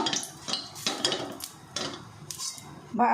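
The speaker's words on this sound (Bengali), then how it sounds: "এবার আমি তেলটা কড়াইতে ভালো করে লাগিয়ে নিচ্ছি" A metal spoon spreads cooking oil around a kadai: a series of close scraping and clinking strokes of metal on metal in uneven bursts, then a louder clatter at the end, with no talking.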